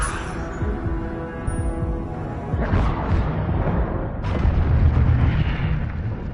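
Incendio fire spell cast in the Hogwarts Legacy video game: dense, roaring whooshes of flame surge at about 2.7 and 4.3 seconds over a continuous rumbling game bed, loud and close.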